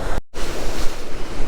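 Ocean surf breaking at a beach, a continuous loud roar of waves with wind rush, briefly cutting out near the start before the wash resumes.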